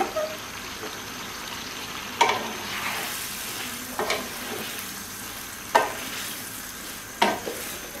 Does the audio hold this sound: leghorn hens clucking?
no